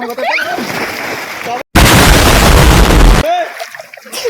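People pushed into village pond water, a loud heavy splash and churning spray up close, with voices chattering and shouting before and after.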